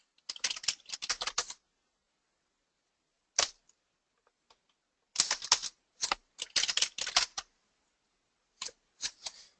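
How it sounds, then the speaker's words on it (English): Rapid clacking of a computer keyboard at a presenter's desk during an Azure SQL Database migration demo, heard close in several quick bursts of keystrokes separated by pauses, with a few isolated taps in between. "And if my keyboard would actually function."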